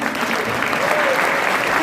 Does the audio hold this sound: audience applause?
yes